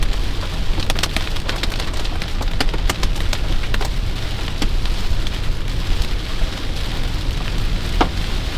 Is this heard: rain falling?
yes